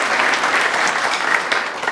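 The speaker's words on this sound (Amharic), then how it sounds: "አጨብጭቡ ለእግዚአብሔር" A church congregation claps steadily and fairly loudly for the whole short stretch, a dense even applause with no voices above it.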